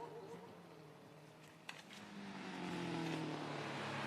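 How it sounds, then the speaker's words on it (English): A 2-litre Mark I Ford Escort race car at a Leyburn sprint accelerates, a faint distant engine note rising and growing louder with climbing revs, along with faint background noise. "2-litre version of the Mark I Ford Escort"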